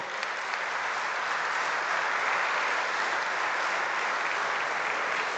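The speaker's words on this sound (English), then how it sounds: "Palki Sharma Upadhyay deserves a huge round of applause again." A large audience at a Rotary Institute session in Kochi applauds Palki Sharma Upadhyay. The clapping is an even, continuous roar of many hands, moderately distant and uninterrupted throughout.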